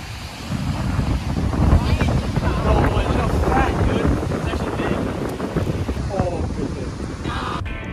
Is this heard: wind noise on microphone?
yes